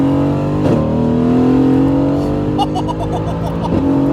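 A Mercedes-AMG GT pulls hard from a stop with its tires spinning, the engine note climbing loud and close, a brief dip at a gear change, then rising again through the upshift.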